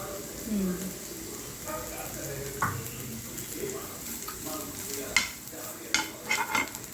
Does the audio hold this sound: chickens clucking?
no